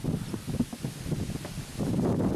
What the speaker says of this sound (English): the wind is still blowing. Look at the wind just blowing us back.